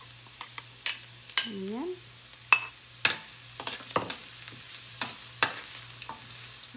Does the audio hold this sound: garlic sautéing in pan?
yes